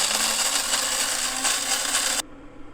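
Coffee grinder loudly grinding Honduras roast coffee beans, a dense harsh whirring roar held for about two seconds before it cuts off sharply, leaving quiet room noise.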